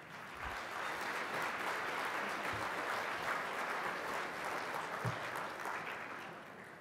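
A lecture-hall audience applauds at a distinguished speakers series event, a sustained, even clapping from many hands that swells and then fades slightly toward the end.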